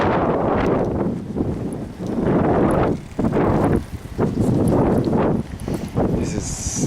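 Strong spring wind on a riverside walk among cherry blossoms buffets the microphone in loud, sustained gusts that ease briefly between surges, a heavy rumbling roar with faint rustling behind it.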